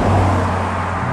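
Traffic noise from a nearby road, a steady engine rumble and whoosh as a car passes, fairly loud with no voices.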